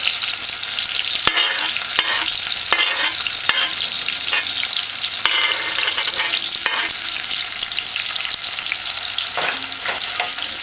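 Scallion and garlic fry in a hot pan for a Jamaican rundown dish, producing a loud, constant sizzle broken by repeated sharp clicks and scrapes of stirring.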